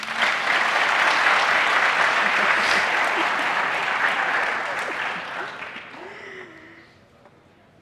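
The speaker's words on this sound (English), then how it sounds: "Please clap for me." An audience at a quarterfinal of Ghana's National Science and Maths Quiz 2022 gives sustained loud applause, a dense crowd clapping that holds steady and then tapers off toward the end.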